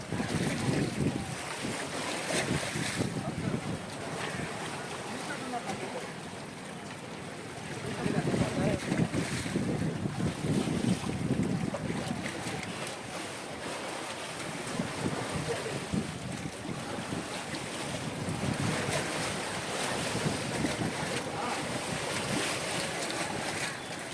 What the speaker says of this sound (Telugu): అలల తాకిడి చూసారా? ఆ సౌండ్ మీరు ఒకసారి వినండి.